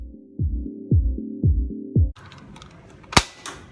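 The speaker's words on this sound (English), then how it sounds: "you simply pull the trigger to fire" A toy dart blaster without a rotating cylinder fires several times in a row: four evenly spaced springy pops, then mechanical handling noise and one sharp loud snap near the end, close up with no talking.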